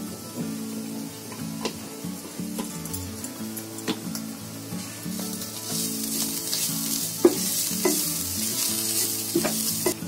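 Turmeric pinched into hot oil in a pan for a potato snack, a steady crackling sizzle with stirring scrapes and light clinks running throughout, close and fairly loud, no talk.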